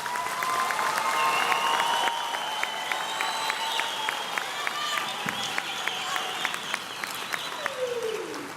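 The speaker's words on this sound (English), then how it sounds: "Please give our graduates from the Faculty of Education another round of applause." Audience applause for Faculty of Education graduates at a university graduation ceremony, a steady wash of many hands clapping in a large hall, sustained and fairly loud throughout with individual claps popping out.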